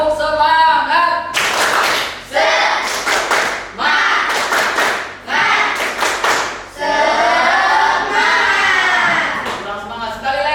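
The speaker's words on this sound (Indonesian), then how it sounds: "sebelum itu kita bertepuk semangat terlebih dahulu ya, biar kita semua lebih semangat lagi" A classroom of students performs a rhythmic 'tepuk semangat' clapping chant, with bursts of patterned group claps mixed with chanted voices, loud and close, split into several short phrases.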